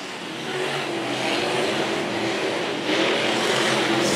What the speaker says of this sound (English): Cars trading paint and changing places all over this track.